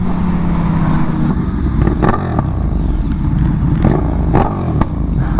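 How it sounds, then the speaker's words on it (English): KTM Super Duke motorcycle with a slip-on exhaust, loud and close, its engine revving and burbling with uneven pulses and sharp bursts over steady rumble, no talking. "that Super Duke does sound really good"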